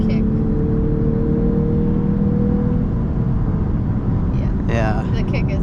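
A 2022 Lexus IS350 F Sport engine hums with a steady low drone that gradually eases off, heard from inside the cabin with a brief whirring rise near the end and talk in the car.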